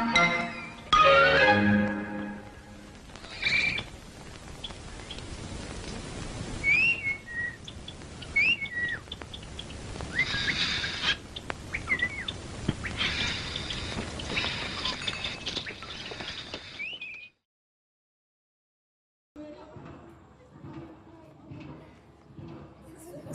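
Small songbirds in a bird-selling shop chirp and whistle in bright, repeated calls over a steady murmur, continuing for most of the stretch before a short pause. Voices follow afterward.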